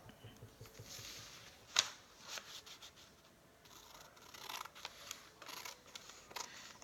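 Paper shapes being cut out with scissors, giving scattered snips and crisp rustling bursts at close range over a faint room background, with no voices.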